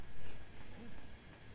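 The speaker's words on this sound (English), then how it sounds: "I'll follow the obvious alarm clock." An alarm clock rings in the video game Lego Marvel Super Heroes: a steady, thin electronic ringing sits over a low, busy game soundscape for about a second and a half.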